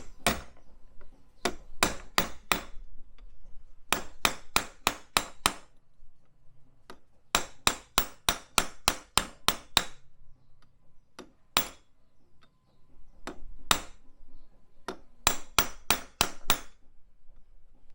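A hammer strikes a small reversed punch set into a rivet head, sharp metallic blows landing close in quick bursts of four to seven hits separated by short pauses.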